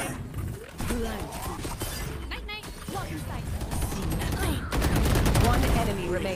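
Gunfire in the first-person shooter Valorant, with loud bursts and rattling shots over busy game effects, accompanied by a voice chatting intermittently.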